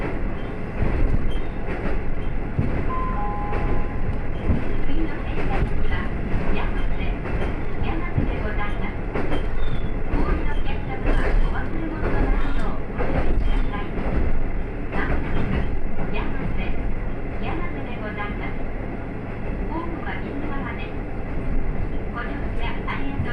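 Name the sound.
Tokotoko tourist train on tires running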